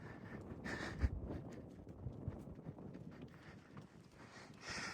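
A green horse is ridden outdoors while bringing lost cows in from a hidden corral. Its hooves clip-clop in a steady, close rhythm under light wind noise.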